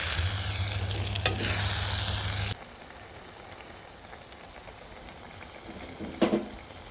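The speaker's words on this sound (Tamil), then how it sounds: "இப்பொழுது நாங்கள் 2 மேசக்கரண்டி தனி செத்தல் தூள் போட்டு கிளறுதல் வேண்டும்." Chili powder stirred into onions frying in a pan for seeni sambol: loud close sizzling and scraping at first, then a softer, steady frying hiss with another brief stir near the end.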